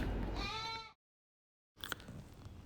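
A single dairy goat bleats loudly up close, a wavering cry cut off abruptly, followed by a brief gap and then rustling background noise.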